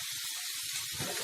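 Red and green capsicum sizzling in a hot pan for vegetable rolls, a soft steady hiss of frying with faint bubbling, close and quiet, with no talking.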